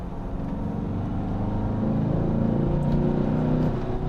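Peugeot 508 SW in sport mode accelerating, a steady droning engine note with a synthesized sound generator rising slightly in pitch, heard from inside the cabin without talk.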